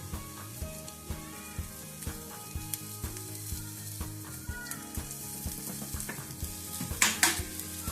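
Grated coconut frying in coconut oil with curry leaves and pepper, a steady close sizzle with small crackles and occasional stirring clinks throughout.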